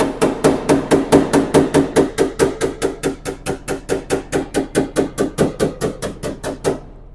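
Small hammer tapping down a high spot on a car body panel during paintless dent repair, a rapid, even train of about thirty crisp metallic taps, close and steady, fading slightly toward the end.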